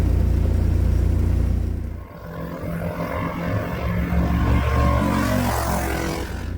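A small car with a dual-carbureted 670 cc Predator engine roars close at full throttle, then drops off briefly and builds again into a rising, buzzing drone as it accelerates.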